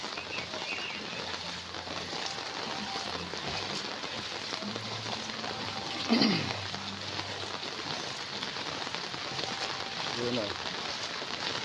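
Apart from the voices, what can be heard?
rain falling on a street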